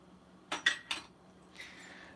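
A metal tablespoon clinks three times in quick succession against a dish or jar while measuring tamarind for a habanero ketchup, followed by a softer scrape, close and quiet with no talk.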